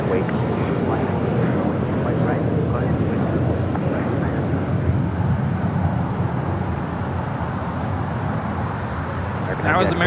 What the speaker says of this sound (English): That was American 1994 taking off to Dallas Fort Worth on an A321